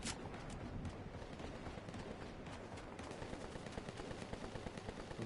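Rapid gunfire from a video game rattles on almost without a break for about five seconds, loud and close, with dense overlapping shots and bursts and no clear talk on top.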